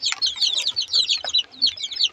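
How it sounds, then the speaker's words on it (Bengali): Young chicks peep and cheep in rapid, overlapping bursts, close by and busy, with a few soft clucks among them. "এই যে মুরগির বাচ্চাগুলো।"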